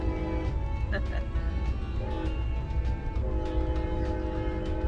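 A moving train rumbles steadily with clattering and rattling throughout, the steady rolling noise continuing without pause.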